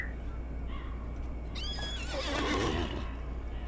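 A horse in the online game Lord of the Rings Online lets out one clear, loud whinny with a rising and falling pitch, set over a steady hum of game ambience.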